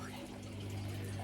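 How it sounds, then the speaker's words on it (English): Water runs continuously through a small waterfall system in a fish room of Tanganyikan cichlid tanks, a steady close splashing trickle with a low pump hum underneath. "My little waterfall system going on there."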